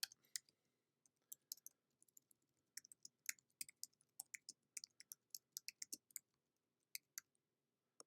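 Light, sparse clicks of computer keyboard keys during a timed typing exercise, irregular single taps and short runs, faint and close with no talking.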